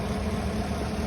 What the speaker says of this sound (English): See how engine quiet.